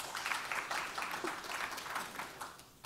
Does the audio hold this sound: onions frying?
no